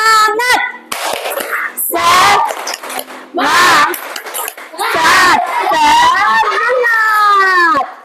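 Schoolchildren in a classroom chant a rhythmic spirit cheer together, their voices loud and close, punctuated by a few sharp bursts of group clapping in time.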